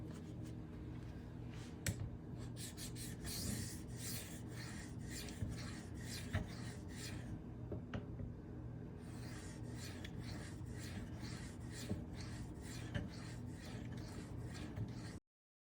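Knife edge rasping across a Venev 2.5K diamond sharpening stone, steady repeated scraping strokes close up and moderately quiet, with a short pause midway.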